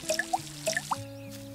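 Garden plants are watered in a gardening simulation game, giving a few short, bright water drips and squishy liquid splashes in quick succession, close and alone without speech.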